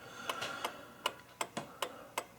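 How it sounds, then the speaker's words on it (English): Pendulum clock mechanism ticking in a steady, evenly spaced series of crisp clicks, about seven ticks close to the microphone in a quiet room. "by raising and lowering this pendulum, it will make the clock movement operate faster or slower"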